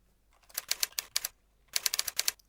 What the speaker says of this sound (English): typing with the keyboard works